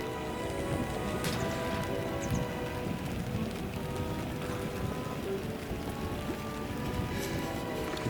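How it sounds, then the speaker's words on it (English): Steady drizzle patters continuously at a carp fishing lake, a dense, even hiss of light rain close by with no talking over it. "There's a lot of drizzle kicking in now"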